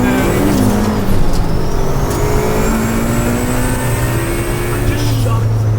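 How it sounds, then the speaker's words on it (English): A 400HP turbocharged B18C Honda Civic Si EM1 with VTEC under boost, a loud sustained engine note rising and falling through gears, close up, with a voice speaking over it. "it's just awesome with all those tuner noises. The combination of VTEC and boost is just unreal."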